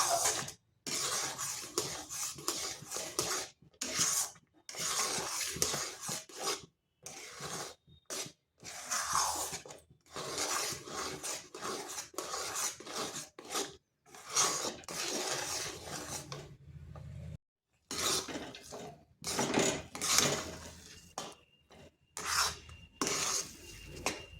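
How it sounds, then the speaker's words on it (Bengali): A spoon stirs semolina cooking in milk in a pot, giving a steady rasping scrape in repeated strokes with short pauses between bursts, close and fairly loud, no speech. "আর এইভাবে অনবরত নাড়তে হবে, না হয় নিচে লেগে যাবে।"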